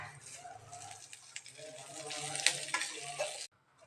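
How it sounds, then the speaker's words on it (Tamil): Curry leaves fry in ghee with a soft, crackling sizzle and a few sharper spits, fairly faint and continuous, cutting off abruptly near the end. "கருவேப்பிலை நல்லா நெய்லேயே ஃப்ரை ஆகிடுச்சு"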